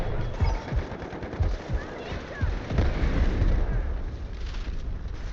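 A grenade goes off amid rapid automatic gunfire in the Delta Force shooter game, in a smoke-filled area, with heavy booms and bursts overlapping loudly and continuously.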